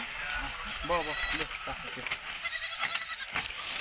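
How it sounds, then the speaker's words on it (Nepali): Goats grazing on grass bleat several times at close range, short wavering cries scattered among rustling, while people talk nearby. "तेरो यो बाख्रा पनि खेलाउनु पर्ने अवस्था हेर्नु होला"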